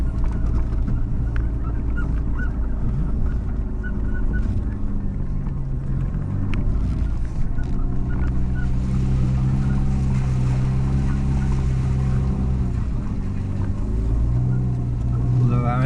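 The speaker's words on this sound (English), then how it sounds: "Although our exhaust blows," A farm vehicle with a blowing exhaust rumbles steadily through the whole stretch, a loud, low, uneven engine drone close by, with faint voices now and then.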